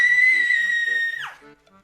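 A girl's high, sustained scream of fright, loud and close, holds steady before breaking downward and fading, with faint background tones beneath.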